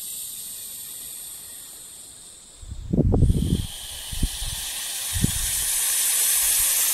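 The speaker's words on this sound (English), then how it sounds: "they've got an extra keel in front of the glottis, which makes the hiss really loud" A snake hisses loudly at close range, a long broad rushing hiss that swells and fades, interrupted by a few low thumps and handling bumps, with no talk over it.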